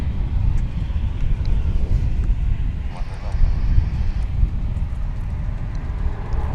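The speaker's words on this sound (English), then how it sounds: "So that was American Airlines Flight 654 coming in from Las Vegas" An American Airlines Airbus A321 arriving from Las Vegas at DFW International Airport, a steady low jet roar with wind buffeting on the microphone, moderately loud and continuous.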